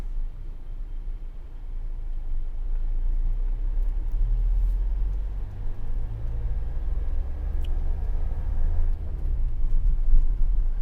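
A car goes by on a rural Cotswolds road in Oxfordshire at a 30-mile-an-hour limit, a low rumble that swells steadily and stays close over roughly eleven seconds, with no talking.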